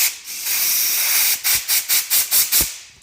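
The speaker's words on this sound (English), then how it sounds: "So I'm going to take some compressed air and then launch them across the shop a good 50 feet." An air gun blows compressed air through tiny pilot jets from a Yamaha Banshee 350cc carburetor: a long loud hiss, then about six short sharp puffs in quick rhythm.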